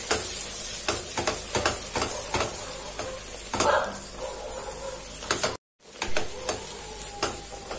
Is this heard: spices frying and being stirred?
yes